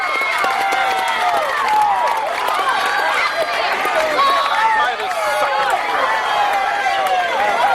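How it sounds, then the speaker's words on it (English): Crowd at a high school substate baseball game, Gehlen Catholic vs Woodbury Central, cheering and shouting steadily throughout, a dense wash of many voices with whistles and yells, fairly close and loud. "Oh, you can hear that crowd"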